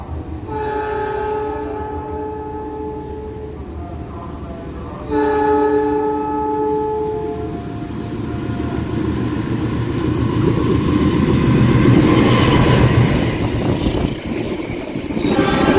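Probowangi passenger train arriving at a station, sounding two long multi-tone horn blasts, then a rising rumble and clatter of wheels as the train rolls in close by.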